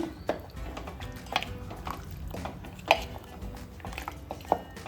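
Masala paste is stirred into a country chicken curry in a pot, producing close clinks and knocks of a spoon against the metal with soft wet squishing between them, and no voices.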